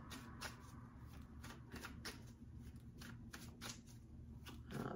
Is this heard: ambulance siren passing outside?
no